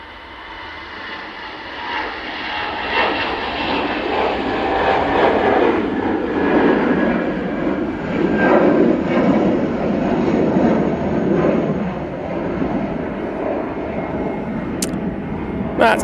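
An EasyJet airliner rolls down the runway for takeoff at Manchester Airport, its jet engines building into a loud, sustained roar that swells and holds steady, heard from a distance outdoors.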